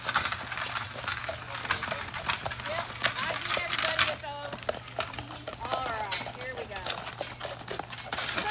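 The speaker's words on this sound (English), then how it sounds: "It looks like we got a horse and buggy tour" Horse hooves clip-clopping on a path as a horse and buggy tour passes through the grounds of the Hermitage, President Andrew Jackson's home; repeated sharp hoofbeats at moderate distance, mixed with outdoor ambience and people talking.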